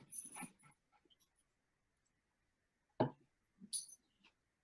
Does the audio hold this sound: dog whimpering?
yes